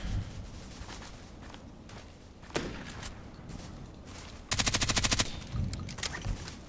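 Muffled game gunfire from a Vinturis VSS sniper rifle, fired without a scope: scattered single thumps, then a dense rapid burst of about a dozen sharp shots near the five-second mark, followed by a few more scattered reports.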